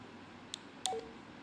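Short electronic keypad beeps from a Baofeng UV-5R dual-band UHF/VHF walkie-talkie: one brief high beep, then a second beep followed by two short tones, close and alone in a quiet room.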